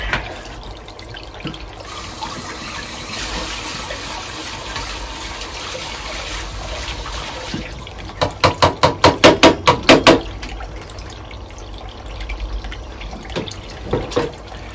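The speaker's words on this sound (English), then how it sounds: "I'll rinse off wipe down the deck" Water running from a tap rinsing the internal sea strainer of a boat's air-conditioning system, a steady trickle and splash with a burst of sharp knocking taps midway and a few more near the end.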